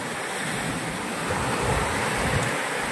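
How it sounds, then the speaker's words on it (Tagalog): Steady roar of rough sea surf at Bolinao with strong wind buffeting the microphone, a continuous broadband rush with no voices. "medyo maalon ngayon, tsaka malakas ang hangin"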